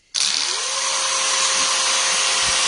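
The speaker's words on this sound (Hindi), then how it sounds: "इसके अंदर जो ब्रश लगे हैं वो भी घूम रहे हैं" An electric sweeper with spinning brushes starts abruptly and runs with a loud, steady high whir and a rising motor pitch that settles into a constant hum, close by with no talk.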